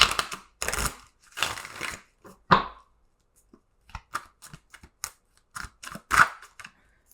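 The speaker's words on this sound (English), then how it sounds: "let's shuffle this a little bit" Tarot cards being shuffled by hand, a run of quick papery riffles and taps in short bursts with pauses between, close and fairly quiet, no talking.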